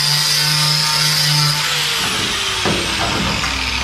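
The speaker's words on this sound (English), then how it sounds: "I'm gonna grind a little bit here." A power grinder works on a metal roof, a steady loud whine that shifts pitch and drops as the grinding eases off near the end, heard alone without talk.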